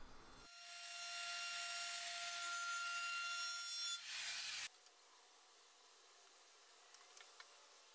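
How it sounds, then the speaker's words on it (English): A power sander works over a large wooden serving tray to take off burn marks, a steady close whine and hiss lasting about four seconds before stopping abruptly, leaving faint room noise. "I could add the rest of the roundovers and sand off any burn marks"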